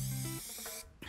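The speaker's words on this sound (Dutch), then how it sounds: "Niet alleen de placemats krijgen een nieuwe look, maar ook de wijnflessen ontkomen niet aan de spuitbus." A spray paint can sprays a wine bottle in a short loud hissing burst, close up, cutting off briefly before a second quick spurt at the end.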